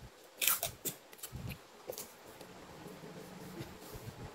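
Scotch tape is pulled and torn while patterning raglan sleeves. A sharp tearing crackle is followed by softer crinkles and taps at close range, with no voices.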